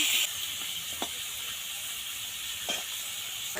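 Crabs fry in a pan with ginger, garlic, onion, green chili and bay leaf, a steady close hiss and sizzle with a few brief spatters and pops.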